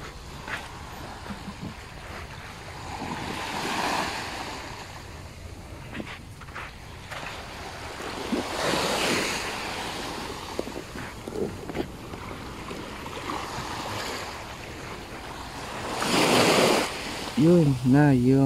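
Waves wash in and recede in slow surges several seconds apart, with a soft breezy hiss between them and a voice briefly heard near the end.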